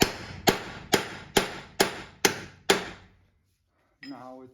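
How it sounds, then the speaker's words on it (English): A long steel punch is struck with a hammer against a Toyota Tundra transfer case, giving seven sharp, evenly spaced metallic blows that ring briefly, followed by a short pause and a faint clatter. "I just use a long punch and give it a couple taps"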